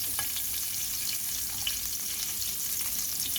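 Butter sizzles in olive oil in a pan with a steady, fairly close crackle and small pops, and no talking over it.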